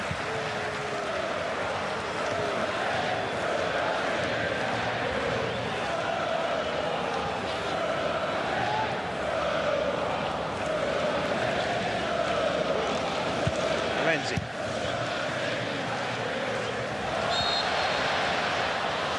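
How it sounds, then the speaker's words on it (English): Football crowd at the AFC Asian Cup 2015 match between Australia and Kuwait singing in appreciation of Tim Cahill, a broad distant chanting roar of stadium voices running steadily beneath a commentator talking. "Just hear the crowd singing their appreciation of Tim Cahill."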